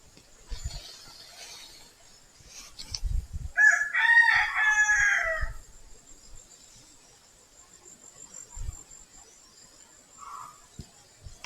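A wild junglefowl (labuyo) rooster crows once from a distance, a faint, drawn-out call over a steady high insect drone, with scattered low thumps around it.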